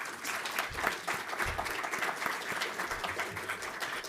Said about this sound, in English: a real round of applause to the both of them